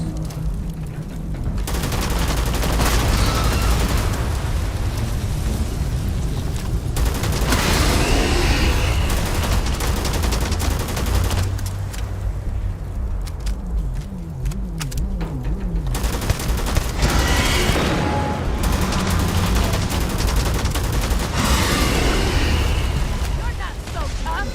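Rapid gunfire and booming grenade blasts from combat in the video game Starfield, loud and sustained for the whole stretch, with a voice speaking over parts of the fight.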